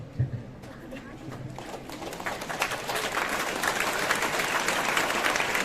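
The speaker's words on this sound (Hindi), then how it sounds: "सभी को ताली बजाएंगे" Audience applause at a Women's Entrepreneurship Day college event, clapping building from scattered claps to a fuller, sustained round, moderately loud, with birds cooing faintly in the background.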